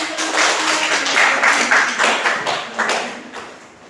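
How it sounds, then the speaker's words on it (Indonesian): A classroom group claps after a student presentation in a poetry lesson, a dense, steady patter of many hands lasting several seconds, fairly close and loud, then thinning out toward the end. "Tepuk tangan."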